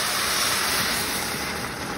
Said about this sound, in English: as you can hear, it sizzles nicely